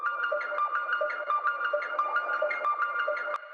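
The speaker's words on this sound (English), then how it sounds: "My really favorite part is the siren loop." Looped siren sample from a drum and bass track, a steady wavering tone pulsing in quick repeated cycles, moderately loud and heard alone with a light reverb tail.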